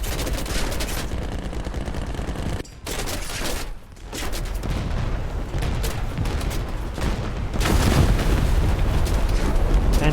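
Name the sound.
bomb exploding nearby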